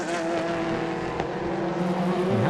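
Endurance race cars at the Imola circuit during the 4 Hours of Imola, engines droning with shifting tones as cars pass, a steady, moderately distant roar without commentary.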